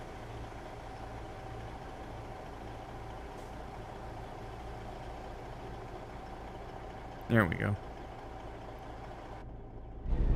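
Truck engines idle in a video game with a steady, low, continuous rumble. A brief spoken comment cuts in near the end.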